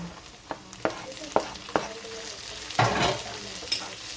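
Three tomatoes stir-fried in a pan with shrimp paste: a soft background sizzle punctuated by repeated sharp spatula knocks and scrapes against the pan, close and irregular, with no talking.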